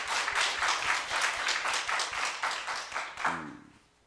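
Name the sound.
church congregation applause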